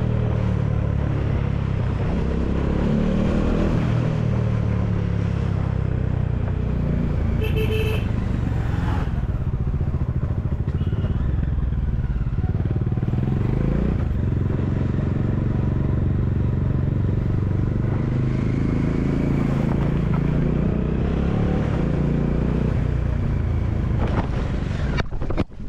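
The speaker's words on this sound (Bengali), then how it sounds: "স্টিকার মাউন্ট দিয়ে বাইকের পেছনে এটাকে মাউন্ট করে বেশ জোরে বাইকে চালাচ্ছিলাম" Motorcycle riding fast with a GoPro Hero 10 Black sticker-mounted on the rear of the bike, heavy wind rush and engine roar blended into a loud continuous buffeting for the full length, no talk.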